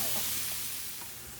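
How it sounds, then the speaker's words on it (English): Mushrooms and thyme sizzling in butter and olive oil in a pan, a steady close hiss and crackle with faint stirring, no voices. "I am sauteing up my mushrooms and thyme"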